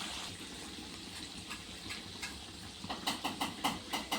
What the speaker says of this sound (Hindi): और इसे स्लो फ्लेम पे ही फ्राई कर लेना चाहिए